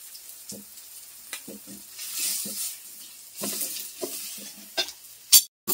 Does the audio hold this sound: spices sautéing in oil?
yes